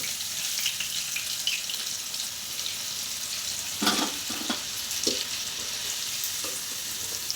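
Chicken pakoda pieces fry in hot oil, giving a steady close sizzling hiss throughout, broken by a few short clattering knocks near the middle and again toward the end.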